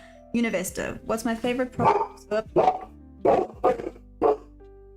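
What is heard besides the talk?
dog barking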